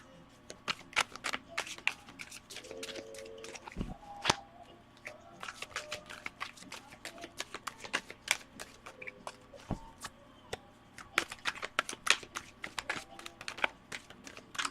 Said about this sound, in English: I have a very random way of shuffling.